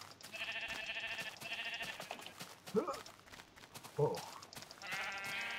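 Minecraft sheep bleat several times in a row, nasal wavering cries over game sounds, with a person speaking briefly in between.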